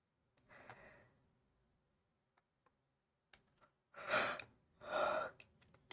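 A person yawns audibly during a relaxed drawing session, with two long, breathy, rising-and-falling exhalations close to the microphone after some quieter breaths and faint clicks.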